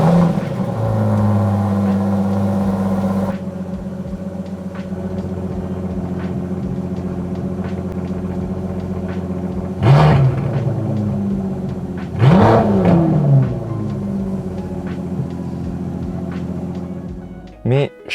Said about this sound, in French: lorsqu'on passe du mode confort au mode sport, les valves à échappement s'ouvrent et alors là, le son de la DBS est totalement libéré